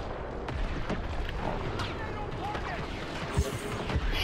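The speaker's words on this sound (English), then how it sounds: "Stop shooting at me." Gunfire in Star Wars Battlefront II, a continuous barrage of blaster shots and distant blasts in a busy firefight, steady and fairly loud throughout.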